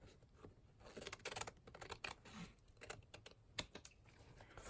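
Scissors trim collage paper ephemera in a series of short, crisp snips and rustles, close and fairly quiet, with no talking.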